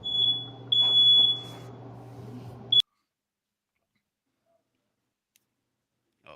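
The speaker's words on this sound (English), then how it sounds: "Oh, that's the Eagles alarm going off." Smoke alarm going off, sounding as shrill electronic beeps in short bursts over a low hum, then cutting off abruptly into near silence with a faint click at the end.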